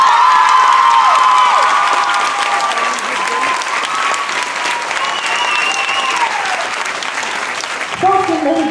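Gala crowd applauds and cheers a large girls' pompom squad, regional and national champions: loud, sustained clapping with high shouts and cheers layered on top, easing slightly toward the end.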